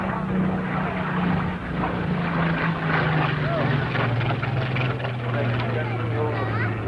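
Spitfire aircraft operated by Rolls-Royce Limited flying at the 1986 RAF Halton airshow, a steady droning engine roar that holds throughout and slowly drops in pitch, heard under an announcer's voice over the loudspeaker.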